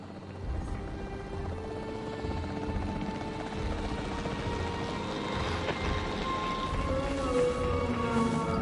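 A capture team helicopter in Jurassic World 3 drones steadily with a continuous rotor and engine roar that stays loud and constant throughout, with no voices.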